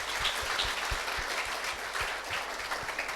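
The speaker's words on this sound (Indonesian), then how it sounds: "Mari kita beri tepuk tangan yang meriah." Wedding guests applaud the newlyweds at a church blessing ceremony, a steady burst of many hands clapping close by, with no voices over it.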